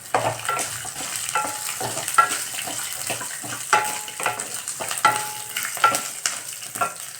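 Small shallots and a few garlic cloves frying in a pan for a drumstick-leaf chutney, with a steady sizzle broken by stirring scrapes and clinks, close and fairly loud, no talking.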